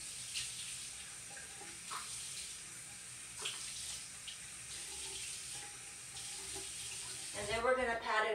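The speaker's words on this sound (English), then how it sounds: "And then we're gonna rinse. We're gonna keep rinsing." Running tap water rinses a face over a sink in a steady, close hiss, with faint handling splashes, building louder and more agitated near the end.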